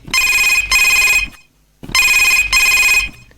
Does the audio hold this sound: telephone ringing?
yes